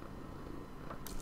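A cat purrs close to the microphone, a soft steady rumble that runs unbroken through the brief moment.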